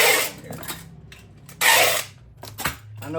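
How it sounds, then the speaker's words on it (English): Packing tape pulled off a dispenser and pressed onto a cardboard box, two loud screeching bursts with quieter rustling and tapping between them, close up. "I know the sound of that tape can be irritating"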